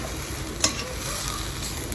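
Steady sizzling of minced meat frying in a pan with peppers and tomato paste, a continuous crackling hiss with one sharp clink of a utensil partway through.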